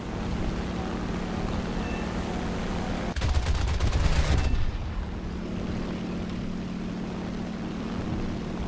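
Aircraft machine guns fire during an arcade dogfight in War Thunder, flown in a J2M2 fighter: a short, dense burst rattles over a steady engine drone, which continues alone afterward.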